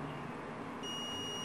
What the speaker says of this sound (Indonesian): Baru alarmnya berbunyi.